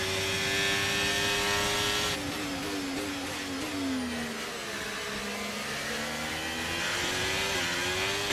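A Formula 1 race car in the F1 23 video game drives after contact, its high-pitched engine whine holding loud and steady, then shifting and dipping before climbing again, with no voices over it.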